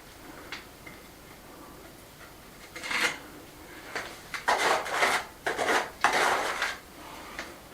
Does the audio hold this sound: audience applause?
no